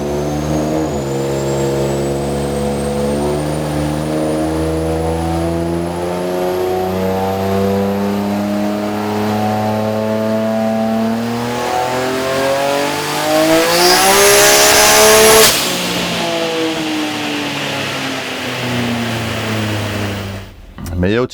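A tuned car engine revs hard on a chassis dynamometer in a garage. It climbs through a long, loud, sustained pull with rising harmonic whine, peaks and cuts off sharply, then settles back to a lower drone before a final blip.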